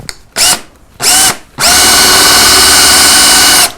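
Power drill driving a bit into wood to recess an escutcheon plate below the surface for hanging a relief carving: two short loud bursts, then a long steady whirring run, close and alone.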